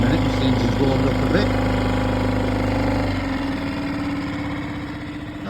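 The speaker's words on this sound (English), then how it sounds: "we're ready to go in a minute once the engine's warmed up" A boat engine idles while warming up, a steady close rumble with a low hum that eases slightly partway through, running alone without talk.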